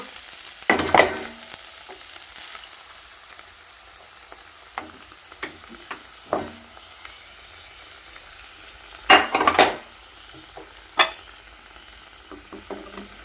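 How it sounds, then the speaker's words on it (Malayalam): Coconut paste is stirred into a sizzling vegetable curry in a pan, with steady frying hiss broken by sharp scrapes and clinks of the spoon against the vessel, close and without talk. "തേങ്ങ അരപ്പ് ചേർക്കുകയാണ്"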